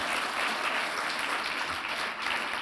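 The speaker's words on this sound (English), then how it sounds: "A round of applause for them." An audience applauds at the Mindful Money Awards 2022 ceremony: dense, steady clapping from many hands that holds evenly throughout, with no talk over it.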